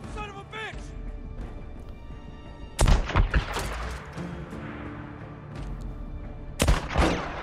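Gunfire in the Days Gone video game: two loud, sharp bursts of shots cut through a steady game soundscape, with people talking in between.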